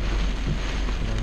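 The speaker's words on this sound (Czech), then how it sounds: "Akorát vítr" Strong storm wind buffets the microphone in a steady, loud broadband roar during a German supercell evening with heavy lightning, with no voices.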